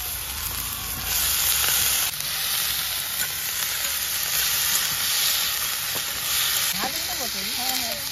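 Potatoes fry in a hot pan with a loud, continuous sizzle and hiss throughout, while a voice speaks briefly near the end.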